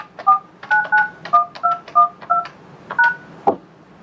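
Keypad tones on a Yealink T53W desk phone as a number is entered, about a dozen short, clear dual-tone beeps in an uneven rhythm, close and loud, ending with a sharper click-like press.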